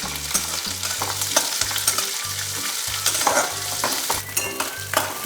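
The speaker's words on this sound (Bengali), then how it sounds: "এবার পেঁয়াজটাকে একটু ভাজতে হবে" Onion frying in a pan for semolina dosa: a constant sizzle with sharp scraping stirs, while a steady rhythmic tonal background hums underneath, with no voices.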